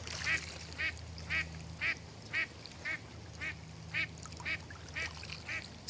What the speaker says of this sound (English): those darn old ducks are still hanging out here